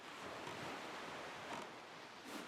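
Steady ocean surf in Wind Waker HD, rough and violent water ebbing and flowing as a continuous broad wash with gentle swells, fairly faint and without voices.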